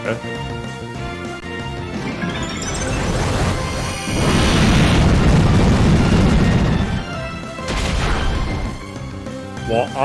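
A Pokémon's Explosion move going off in the Pokémon Rising Ruby game, heard as a loud, sustained crashing blast with a dense booming burst in the middle, bracketed by game music and effects.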